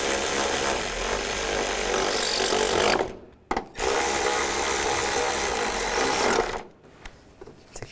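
Bolts being tightened on a thermostat housing of a 2001-2006 BMW 325xi, a steady, loud ratcheting and scraping drone running for about three seconds, a brief pause, then another long stretch before cutting off near the end.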